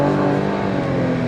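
Cadillac XT5 SUV, 2025 model with a 3.6-liter engine, accelerating hard from inside the cabin: a steady, loud engine drone with rising harmonics as revs climb through the short burst, no talking.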